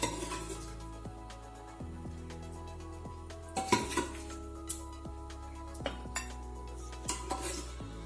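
Ladle and spoon clinking against a metal pot as gravy is spooned over layered rice for mutton biryani, with scattered sharp clinks and scrapes over a low steady background hum, no voices.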